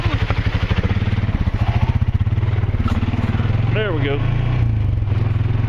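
Four-wheeler ATV engine running steadily on a trail during a family ride, a constant close motor drone with some rattle, people talking over it.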